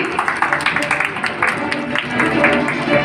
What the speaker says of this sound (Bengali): স্যারের জন্য একটা জোরে হাততালি।